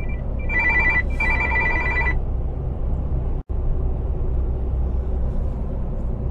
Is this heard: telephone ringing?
yes